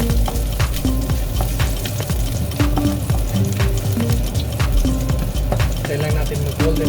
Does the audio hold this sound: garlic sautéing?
yes